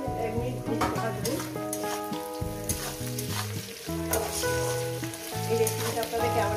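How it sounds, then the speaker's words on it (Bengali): Green chilies frying in a pan of shrimp on medium heat, giving a steady sizzle and occasional stirring sounds under continuous background music. "কাঁচা লঙ্কাটা দিয়ে 1 মিনিট ভাজবো"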